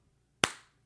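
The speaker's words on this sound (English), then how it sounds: "The slow clap." A single sharp hand clap rings out once and decays quickly, close and loud against an otherwise silent moment, a lone slow-clap beat from a person after a comedy band's gig at a beer garden.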